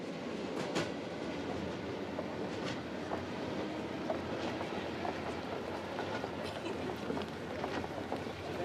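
Train on the Trans-Siberian Railway line approaching Vladivostok in the Russian Far East, a steady rumbling roll with faint rail clatter running throughout, fairly close and continuous.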